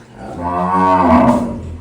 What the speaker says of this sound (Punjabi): ਤੋਕੜ ਮੱਝ ਵੇਖ ਸਕਦੇ